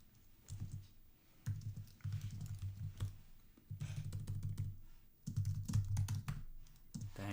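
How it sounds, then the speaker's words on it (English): Typing on a computer keyboard during a programming session, bursts of rapid, close key clicks separated by short pauses, with no talk. "this keyboard is worse than my keyboard"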